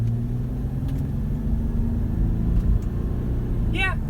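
A Mercedes with the OM642 diesel engine accelerates, giving a loud, steady low rumble heard from inside the car, with a short chirp near the end.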